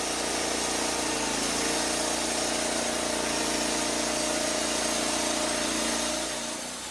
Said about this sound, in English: simultaneously throttles up the engine, engages the clutch, and turns on the water loop